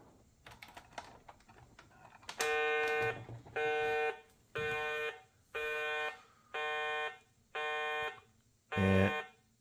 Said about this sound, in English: And there the alarm goes off to warn the good guy Gobots to protect the base.